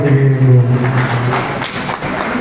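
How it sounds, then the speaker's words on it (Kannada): An audience claps loudly and steadily at a launch ceremony for the Kannada daily newspaper Samyak Vani in Bidar, a dense sustained applause over a low background hum. "ಓಕೆ ಇನ್ನೊಂದ್ಸಲ ಜೋರಾದ ಚಪ್ಪಾಳೆ"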